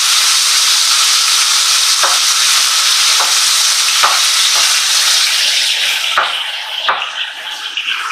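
Chicken pieces fry in a pan until golden brown for honey mustard chicken, a loud, continuous close sizzle broken by a few sharp utensil taps and stirring sounds. The frying eases slightly toward the end.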